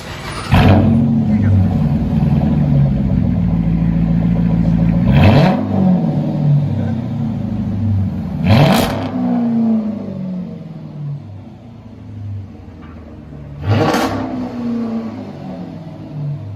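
A Chrysler 300 with a 5.7L HEMI V8, resonators and suitcase muffler removed and a Dynomax Race Bullet exhaust fitted, revs hard four times in sharp bursts over a loud, rumbling idle, close by.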